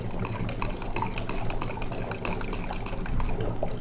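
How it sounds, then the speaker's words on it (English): Baking soda being stirred into water in a laboratory beaker, with a continuous close liquid swirl and light clinks and trickles. "We can just stir it like this."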